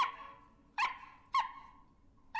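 Dogs, puppies in an animated scene, give short sharp barks, three or four single yips spaced about half a second apart, moderately close with no speech over them.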